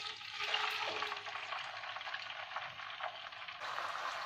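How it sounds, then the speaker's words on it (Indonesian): Tofu pieces fry in hot oil, giving a steady, close crackling sizzle that holds even throughout, with bursts of spattering and no voices over it. "Pertama kita goreng tahunya dulu. Yuk kita goreng."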